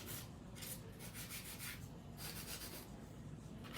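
Hand nail file rasping across acrylic nails, a soft, close, continuous scratching in repeated back-and-forth strokes, with no voice over it.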